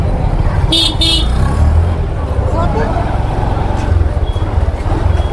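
Busy traffic fills a narrow market street in Chorwad, with a steady engine rumble and a short double car-horn toot near the start, and voices mixed in.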